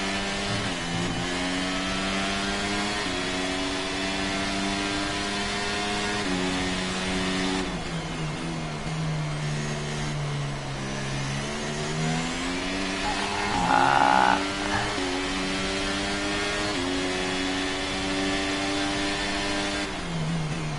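A Formula 1 car's high-pitched engine screams in the racing game F1 23 on the Jeddah circuit, its whining tone rising and dipping continuously through gear changes and throttle lifts as the car accelerates.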